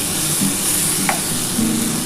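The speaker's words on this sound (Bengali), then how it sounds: "এইটা দিয়েই কিন্তু আজকে মাছের তেল ভাজা করছি" Fish fat from catla sizzles in a shallow layer of oil in a pan, with eggplant and potato frying, giving a steady, close crackle and hiss with a brief stirring scrape, no voices.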